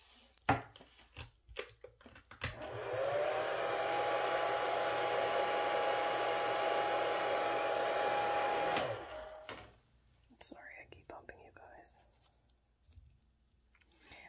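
A steady, loud whooshing hum with a faint tonal whine runs for about six seconds, then cuts off abruptly, leaving quiet rustling and clicks.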